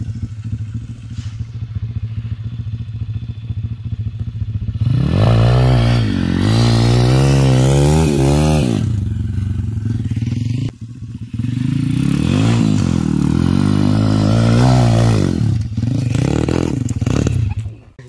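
An MRF 140RC pit bike engine revs hard in a sandpit, two loud rising and falling revving bursts with clattering rattle, near and alone.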